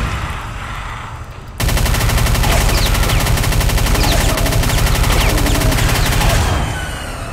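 Rapid automatic gunfire from an enemy's small gun in Brutal Doom 64 bursts in after a quieter opening and rattles on loud and continuous for several seconds before easing off.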